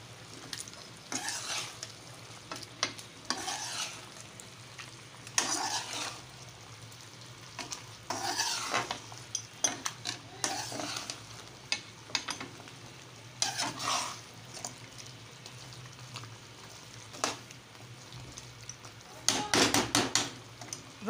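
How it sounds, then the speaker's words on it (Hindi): Mutton karahi is stir-fried in a pan over a high flame, with a steady sizzle under repeated scraping and knocking strokes of a spoon against the pan, close and without talk. "अब हम तेज़ आंच पे इसकी बुनाई करेंगे"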